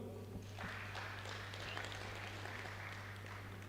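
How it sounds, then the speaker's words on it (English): Members clapping together at a savings and credit cooperative's annual general meeting, a steady wash of applause that fills the room for a few seconds, with a constant low electrical hum underneath. "So can we clap for ourselves?"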